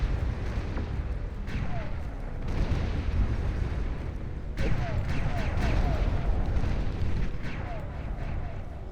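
Orbital cannon barrage from a space race mod of the strategy game Beyond All Reason, heavy booming impacts hitting the ground in dense continuous rumbling waves, loud and layered, with a heavier burst midway.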